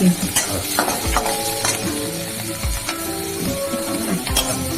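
Soaked pea dal and whole cumin seeds fry in hot oil for a vegetarian thali, a steady close sizzle with stirring scrapes and light utensil clinks throughout.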